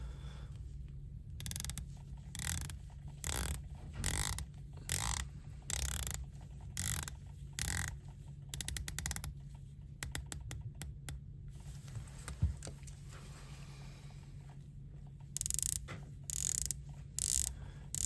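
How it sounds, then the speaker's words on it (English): Rotating bezels on two-tone Breitling Superocean watches ratchet around in quick bursts of sharp, close clicks, with rhythmic runs separated by short pauses over a quiet background. "Take a listen to bezel action on both."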